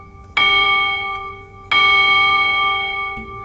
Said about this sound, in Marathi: तसं मग त्याने बेल वाजवली